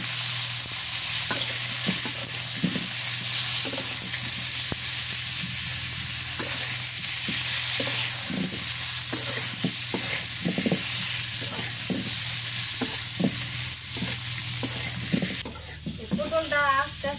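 Pointed gourd (potol) sizzles steadily in a hot pan while a utensil scrapes and stirs in repeated strokes, with loud continuous frying hiss; the sizzle drops sharply near the end as a brief voice is heard.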